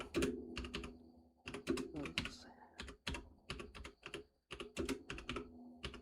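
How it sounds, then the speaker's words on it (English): Rapid, loud clacking of a computer keyboard in bursts of fast typing with short pauses, close and clear. "Very loud keyboard, by the way."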